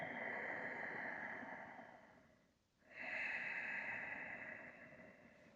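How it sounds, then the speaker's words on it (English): Slow breathing through the nose during a guided calm-breathing exercise: a long, airy inhale fades into a short pause, then a fuller, hissing breath follows, soft and close. "Full inhales through your nose. Soft exhales out your nose."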